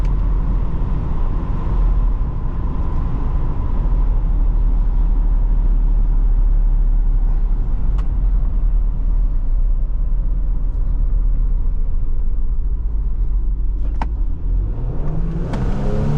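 A Ford Police Interceptor Utility SUV with a 400 hp EcoBoost engine pulls hard, a loud steady engine drone and deep rumble heard from inside the cabin, climbing in pitch near the end as it gathers speed.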